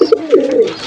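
Pigeons in a home loft give a few soft, close coos, short throaty notes in a quick rising-and-falling sequence.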